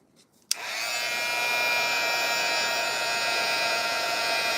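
A heat gun clicks on and blasts a steady, close whooshing hiss with a faint motor whine over Tyvek fairy beads, the airflow holding constant after a brief quiet start.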